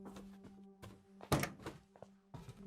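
A door opens in the Layers of Fear horror video game, a sharp heavy thunk with softer knocks and creaks before and after over a low steady hum.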